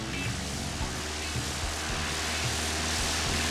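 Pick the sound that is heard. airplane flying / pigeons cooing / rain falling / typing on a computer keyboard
airplane flying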